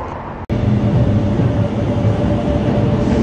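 Steady loud rumble and rattle of a train car riding toward Sintra near Lisbon, Portugal, a continuous dense low roar heard from inside after a brief sharp break near the start.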